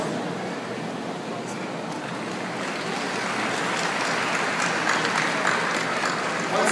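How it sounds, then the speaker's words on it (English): Applause from a university audience at a recognition ceremony, a steady dense wash of clapping that holds at an even level and swells slightly toward the end, with no voices standing out. "a round of applause for our speaker"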